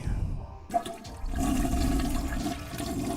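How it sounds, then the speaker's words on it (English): A toilet flushes nearby, starting with a short click of the handle and then a loud, steady rush of water that continues to the end. "Toilet flush."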